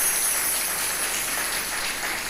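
A crowd of devotees clapping together at a spiritual discourse, a dense, steady wash of applause that holds evenly throughout and stands alone without speech.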